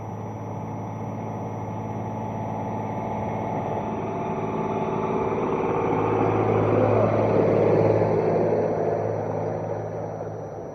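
A farm tractor engine runs steadily nearby in a rural lane by a hedge, a continuous low mechanical drone that swells slightly louder around the middle and then eases, with no talking.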